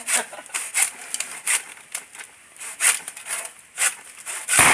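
Irregular raspy strokes of a hand saw cutting bamboo rasp back and forth, uneven in rhythm, close up and moderately loud.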